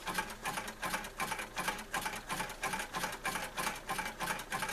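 A sewing machine zigzag-stitches with ecru thread in rapid, evenly pulsing bursts of mechanical whirring and clatter, close and alone.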